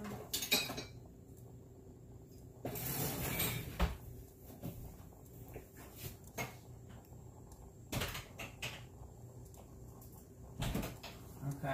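Rummaging through a kitchen drawer while cooking homemade chili: repeated clinks and clatters of utensils and small objects, sharp bursts separated by quieter shuffling, close and moderately loud.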